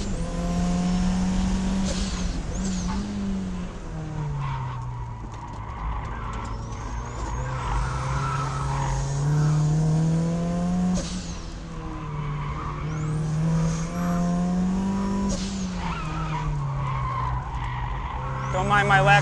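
A turbocharged Mazda Miata is driven hard around a race track, its engine droning and rising through the revs while the tires squeal and skid through the corners, with short gear-change breaks and a voice talking over the car.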